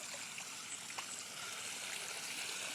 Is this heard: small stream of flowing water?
yes